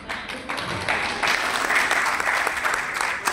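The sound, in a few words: audience applause at journalism award ceremony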